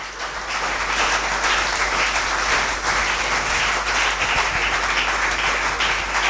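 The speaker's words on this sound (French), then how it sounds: "Est-ce qu'on peut acclamer très fort pour la parole de Dieu?" A church congregation applauding loudly, a dense and steady wash of many hands clapping that fills the room throughout.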